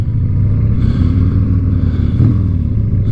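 Harley-Davidson Sportster with CV carburetors, its engine pulling smoothly under acceleration, a close, steady low rumble that rises slightly in pitch without any breaks.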